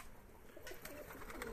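Pigeons coo softly in a loft, their low calls faint against a quiet background hum, with a few light rustles toward the end.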